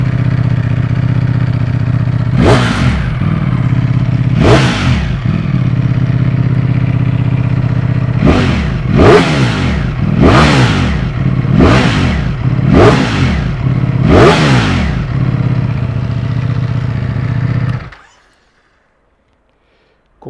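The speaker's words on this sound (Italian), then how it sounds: "E vi faccio sentire il rumore di scarico della Street Fighter V4." A Ducati Streetfighter V4S motorcycle rumbles at a steady idle, punctuated by two separate throttle blips and then a rapid series of five sharp exhaust revs. The engine then cuts off abruptly into silence.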